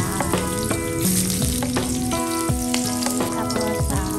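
Chopped ginger spitting loudly in hot cooking oil for an Ilocano-style vegetable and pork dish, with a bright continuous sizzle broken by a few stirring clinks and scrapes from a utensil, and no voices.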